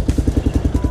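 A carbureted Kawasaki KLR650 motorcycle idling low on a cold day, its single cylinder thumping in a steady, rapid, close-up putter.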